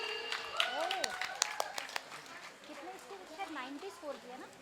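An audience at a college annual day prize ceremony gives a scattered, short burst of clapping for an award winner. The applause is fairly faint and sits under a voice speaking nearby.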